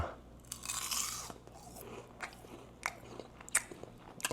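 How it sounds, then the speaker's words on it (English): Close, crisp crunching of kale chips being bitten and chewed, a few sharp crackling bites followed by quieter chewing, with no talking. "I got the kale chips ready. I'm gonna let y'all hear this crunch real quick."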